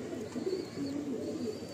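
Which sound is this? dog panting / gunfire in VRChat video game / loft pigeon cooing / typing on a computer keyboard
loft pigeon cooing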